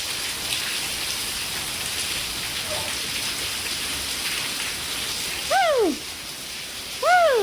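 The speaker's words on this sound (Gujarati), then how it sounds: "અને વરસાદ પડી રહ્યો છે." Steady rain falls outdoors in an even, hissing patter that fills the whole stretch, with a couple of short bright chirps rising near the end.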